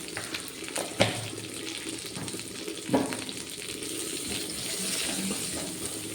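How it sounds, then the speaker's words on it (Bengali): Water runs and splashes into a cooking pot of khichuri, a soft, steady pour with a few brief knocks, fairly quiet and heard alone. "অল্প একটু জল দেবো আমি"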